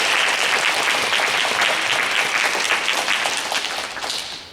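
Church congregation in Auckland claps for newlywed couples after a panel Q&A, a full, close burst of applause that holds steady and then tapers off near the end.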